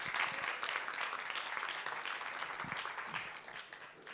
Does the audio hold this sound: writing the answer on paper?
no